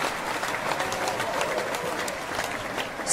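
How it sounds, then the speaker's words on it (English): A small studio audience on a radio talk show gives a short, moderate burst of clapping that holds steady before rising slightly at the very end. "Chris, some applause."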